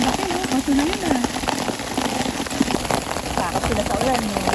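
Steady rain patters on a surface outdoors at a Sawmill Trailhead picnic, a dense continuous hiss with scattered drops, heard under people talking.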